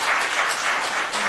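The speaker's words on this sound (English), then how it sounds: "Please, no clapping" Steady applause from an audience at a Glendale city council meeting, many hands clapping together continuously at moderate volume, with no talking over it.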